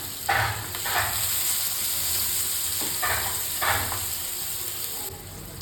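Chopped tomato drops into hot oil tempered with cumin, mustard seeds, asafoetida and ajwain for bhindi fry, setting off a steady loud sizzle with brief bursts of frying as pieces land and get stirred.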